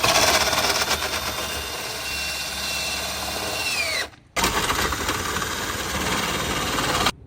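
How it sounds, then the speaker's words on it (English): An electric drill with a stabilizer socket lowers the stabilizers on a Grand Design Imagine travel trailer, its motor whining loudly and steadily, then stopping briefly before spinning up again for a second sustained run. "we're going to lower the stabilizers with the drill"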